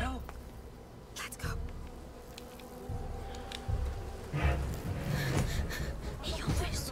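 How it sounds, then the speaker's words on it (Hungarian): Bee swarm buzzing in A Plague Tale: Requiem, a low droning hum that swells and fades over several seconds, with some breathy voice sounds mixed in. "Ne a méhek!"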